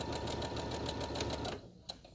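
A sewing machine stitches fabric with a fast, steady mechanical rattle close by, running for about a second and a half before stopping, followed by a single small click.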